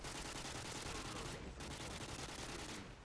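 Dense, continuous automatic gunfire rattles through a multiplayer team deathmatch shooter round on the Highrise map, with near-constant overlapping bursts and only brief dips in the volley.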